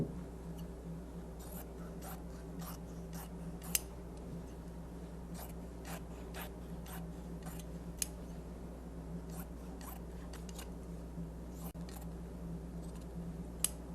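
Scissors cut fabric along drawn lines for continuous bias, giving a series of crisp, evenly spaced snips over a low steady hum, quiet and close.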